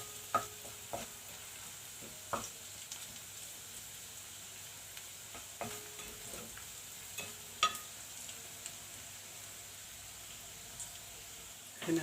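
Onion and garlic soften together in a frying pan with a quiet, continuous sizzle and occasional light taps and scrapes of stirring. No one speaks.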